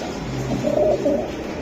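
A Giribaz pigeon gives a short, soft, low cooing call, close by and alone against quiet background noise.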